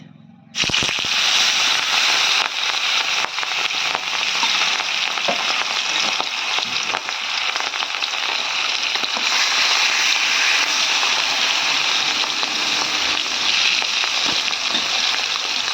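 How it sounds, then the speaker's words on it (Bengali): Big pieces of rohu fish dropped into hot white oil in a wok burst into a loud, vigorous sizzle that continues steadily with crackling spatters throughout, close and without talk. "তেল কিন্তু গরম হয়ে গেছে, এখন কিন্তু মাছ ভেজে নেবো।"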